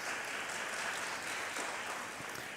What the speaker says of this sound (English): let's thank the author with a warm round of applause